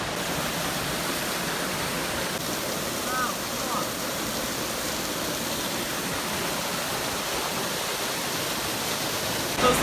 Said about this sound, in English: we made it all the way to the second waterfall.